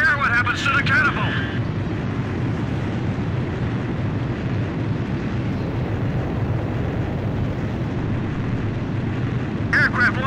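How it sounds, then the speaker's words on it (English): Jet aircraft launching off a ship's catapult in the Ace Combat 5 video game, a loud, steady engine roar held throughout, with short electronic radio tones at the start and end. "Aircraft launch confirmed."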